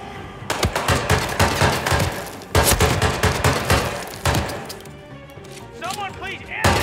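Rapid bursts of automatic gunfire from the Hitman 3 VR video game, loud and close, come in several volleys with a brief pause between them. A person's voice is heard alongside.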